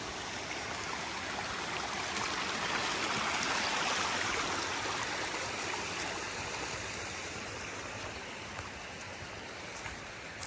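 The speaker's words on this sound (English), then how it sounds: "I have never seen the trail like this with so many waterfalls" Constant rushing roar of waterfalls along a hiking trail, loud and steady throughout, with no voices.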